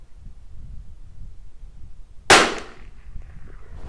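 A single sharp crack from a Tikka T1x .22 LR rimfire rifle fired outdoors at a range, close and fairly loud, with a brief tail after the shot over quiet wind noise.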